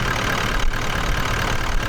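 A vehicle engine idles steadily on a border track trip while its battery is being tested, a continuous low rumble heard close up and alone for the whole stretch.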